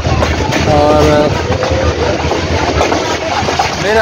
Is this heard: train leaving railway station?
yes